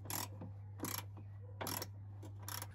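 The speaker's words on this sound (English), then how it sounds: "We'll tighten the bolt up now and that should make a good connection." Ratchet tightening a bolt on an earth connection during a campervan charger install, heard as four short bursts of clicking roughly every 0.8 seconds, close and fairly quiet over a steady low electrical hum.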